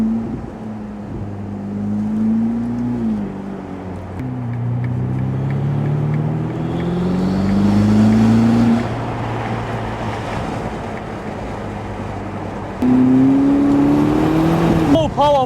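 Ferrari SF90 Spider hybrid supercar driving, its engine tone rising and falling in smooth revving sweeps under heavy wind rush, with a sharp surge near the end.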